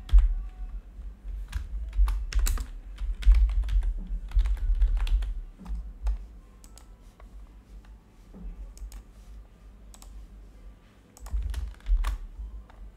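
Typing on a computer keyboard while filling in email fields, with bursts of quick, close clicking keystrokes, a quieter stretch in the middle, then a short final flurry.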